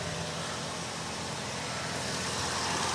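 A Vauxhall Astra GTC with a lit engine warning light runs steadily at idle, a constant low engine hum and broadband rumble holding even throughout with no other sounds.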